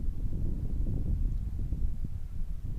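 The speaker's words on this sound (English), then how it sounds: "the wind I'm flying, I'd say 5 to 8 miles per hour wind" A steady 5 to 8 mph outdoor wind buffets the microphone at a model plane flying field, giving a continuous low rumbling roar with no distinct events.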